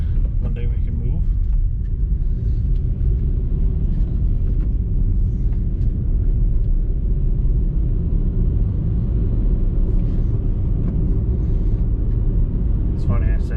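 A car drives along a countryside road with a steady, low rumbling engine and road noise throughout, a few faint clicks and bumps on top.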